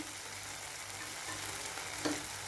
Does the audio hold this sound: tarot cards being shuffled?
no